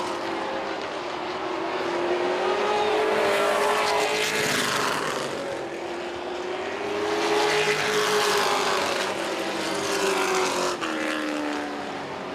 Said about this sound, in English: It's a 35-lap feature for the truck.